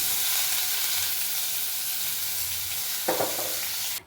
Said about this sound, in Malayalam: എണ്ണ ഒഴിച്ച് ഉഴുന്നുപരിപ്പും പിന്നെ കടുക് ഇട്ട് പൊട്ടിച്ചതിന് ശേഷം മുളകും കറിവേപ്പിലയും കൂടെ ഇട്ടിട്ട്